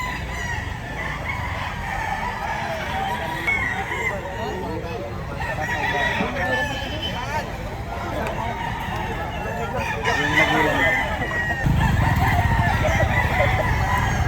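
Roosters crow amid clucking chickens at a busy chicken market in Lipa, Batangas, with several overlapping crows near and far, while people talk and bargain over the noisy crowd.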